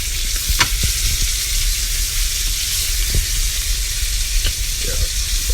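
Steak sizzles loudly and steadily on a grill, close up, with a few brief clicks and taps from a utensil mixed into the constant frying hiss. No one speaks.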